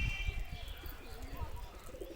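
Pigeons kept as a rooftop flock coo in a low, continuous murmur, with bird chatter and outdoor noise around them and a voice faintly present in the background.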